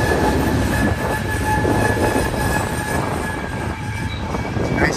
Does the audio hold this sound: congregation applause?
no